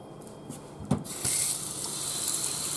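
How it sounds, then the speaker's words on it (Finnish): Tap water runs steadily into jars being rinsed, with a few clinks of glass near the start and then a continuous hiss of flowing water close by. "huuhdella nämä purkit."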